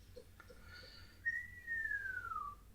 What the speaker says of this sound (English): There's the dirty whistle.